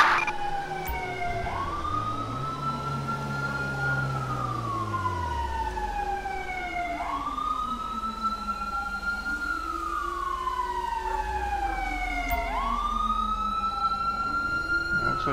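Wailing ambulance siren from the GTA V police mod LSPDFR, rising and falling in long sweeps that repeat steadily throughout over a low engine rumble, loud and close.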